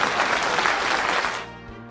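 Audience applause fills a comedy venue, a dense steady clapping that runs loud for over a second and then thins and fades out near the end.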